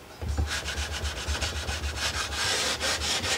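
Sandpaper scrubbing back and forth in the slots of a guitar fretboard during fret replacement, a steady run of close, rough rasping strokes in quick rhythm with no talking.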